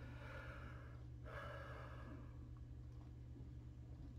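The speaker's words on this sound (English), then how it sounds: "that's yawn number one" A single human yawn, a soft breathy inhale-exhale close to the microphone, heard quietly over a steady low room hum.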